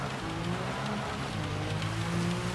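Rain falling steadily over a race track in Gran Turismo 7, a continuous hiss of drops with a low engine drone running beneath it throughout.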